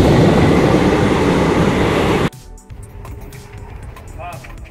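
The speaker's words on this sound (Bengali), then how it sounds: "আমাদের ট্রেন এগিয়ে চলেছে জেসিডির দিকে।" A moving passenger train heading toward Jasidih, a loud rumbling roar for two seconds that abruptly drops to a quieter carriage interior hum with faint clicks.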